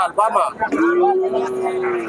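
A cow lets out a long, steady low moo, close by at a cattle market in Bogura, following a brief burst of background voices.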